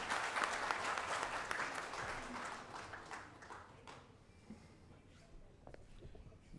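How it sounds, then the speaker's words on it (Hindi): Applause from the audience at a Viksit Bharat Nasha Mukt Yuva event welcomes Dr. Jitendra Singh, loud at first and then gradually thinning out into scattered clapping over several seconds. "उनका स्वागत एक बार जोरदार तालियों से फिर होना चाहिए"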